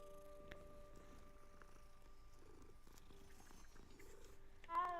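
A cat purrs softly while being petted in the Hogwarts Legacy video game, a faint low rumble with quiet game sounds and a brief chime near the end.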